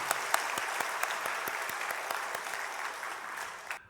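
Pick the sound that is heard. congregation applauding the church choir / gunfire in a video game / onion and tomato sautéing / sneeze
congregation applauding the church choir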